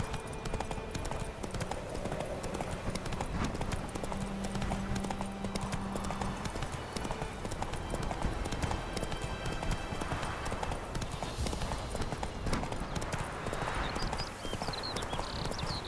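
Horse hooves clip-clop in a fast, steady galloping rhythm in The Witcher 3 game, continuous and close over a dense ambient background.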